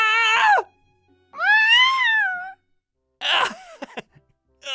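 Cat meowing three times, loud and close, with long drawn-out cries separated by short pauses and the last one breaking into rougher, choppy sounds.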